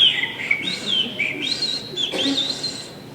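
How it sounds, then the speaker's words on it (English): A Swainson's thrush sings its spiralling, fluting song. The phrases rise and fall in whistled notes, near and clear over a quiet background with no voices. "the Swainson's thrush, my favorite song"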